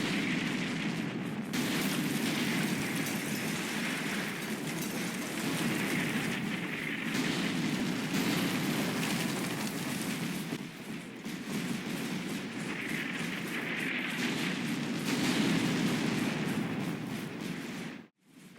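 Artillery barrage pounding a flank in Combat Mission Shock Force, a modern war strategy game, heard as a dense, continuous roll of distant explosions and rumbling impacts sustained for several seconds with no voices over it.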